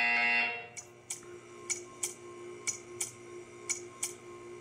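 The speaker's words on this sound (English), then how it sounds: "You will hear a buzzer." A buzzer in Portal 2 first sounds as a loud, sustained tone, then gives way to a series of eight evenly spaced, sharp clicking ticks, clean and close.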